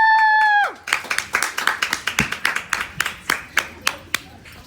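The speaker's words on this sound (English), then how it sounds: "And then everyone clapped." Audience applause in a university setting breaks out after a sustained tone cuts off, a round of claps from a small crowd that settles into a slower, spaced rhythm of individual hand claps, fairly close and fading toward the end.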